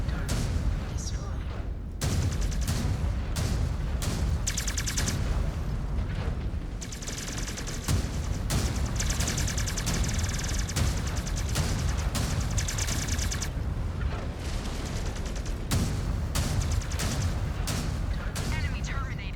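Mech weapons group firing in MechWarrior 5: Clans, dense bursts of heavy gunfire and booming impacts pounding almost continuously, loud and close, with short gaps between volleys.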